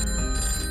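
A telephone rings in a brief burst, a steady electronic tone with bright overtones, heard alone and loud.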